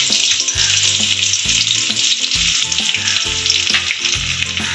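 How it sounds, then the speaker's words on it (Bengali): Chopped garlic dropped into hot oil left from frying pakoras for chili chicken gravy, giving a loud, continuous close sizzle with bursts of crackle and no voices. "এর মধ্যে দিয়ে দেবো রসুন কুচি"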